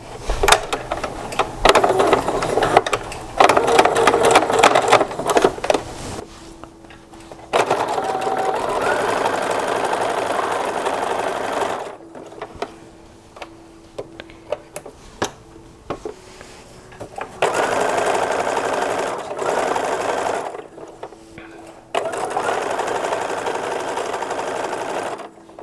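A sewing machine stitching the edge of a 1930s-40s style infant slip, running in several rapid bursts of mechanical whirring and clatter separated by short pauses, close and clear.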